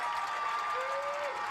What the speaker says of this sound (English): Shawnee crowd really getting into this as they see the momentum shifting towards them here.